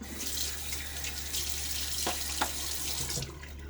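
Steady running water pours from a bathroom tap into a sink while someone wets their face before a shave, a continuous close hiss with a couple of brief splashes, and no talk over it.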